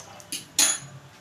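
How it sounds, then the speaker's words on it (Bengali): A metal kadai is set down on a kitchen stove, making two quick clanks close by, the second louder with a short ringing tail, and then a quiet room. "এবার আবার কড়াই বসিয়ে দিলাম।"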